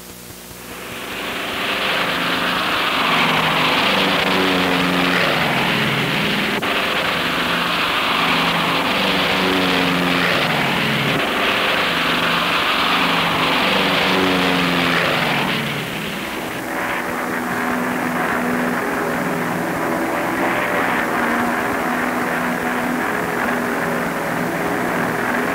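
Propeller-driven RC-121 and C-119J cargo planes depart together, a loud, steady, multi-engine roar with layered tonal hum that continues throughout, dipping slightly in intensity partway through.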